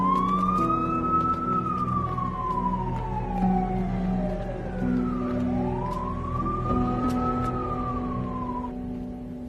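An ambulance siren wails loudly and steadily, its pitch sweeping up and down in two long rising-and-falling cycles with no voices over it.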